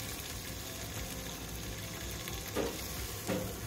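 Ground onion with curry leaves fries in hot oil, a dense continuous sizzle with a couple of louder bursts of stirring near the end.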